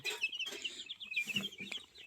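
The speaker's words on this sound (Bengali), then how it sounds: "এগুলো হলো সোনালি মুরগি" Sonali chickens clucking nearby, a busy overlapping mix of short clucks and higher chirpy calls with some farmyard shuffling underneath.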